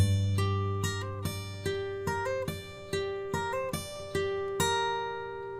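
A theme picked fingerstyle on an acoustic guitar, a clear solo melody of plucked notes with ringing sustain, played in a moderate, evenly paced rhythm with no voice.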